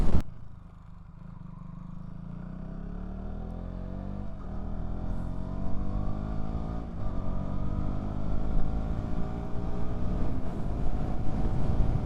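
A KTM Duke 200 single-cylinder motorcycle engine pulls steadily while riding on gentle throttle, its tone rising smoothly through the revs as it accelerates, with wind noise underneath and no talking.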